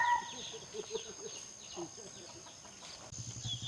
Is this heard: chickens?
yes